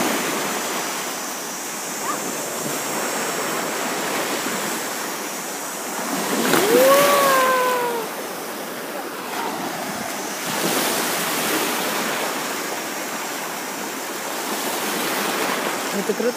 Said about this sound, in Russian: Прям волны.